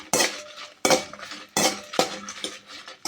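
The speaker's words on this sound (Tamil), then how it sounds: "காஞ்ச மிளகாய் சேர்த்துக்கலாம். நல்லா வறுத்து எடுத்துக்கலாம்." Dried red chillies are roasted in a pan for idli podi, with a metal spoon scraping and clinking against the pan in four or five distinct strokes, close and fairly loud with no speech.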